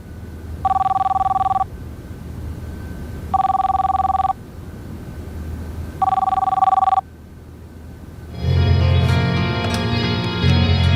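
A telephone rings in three evenly spaced bursts, clear and close, followed by a louder, busier stretch of sound after the last ring.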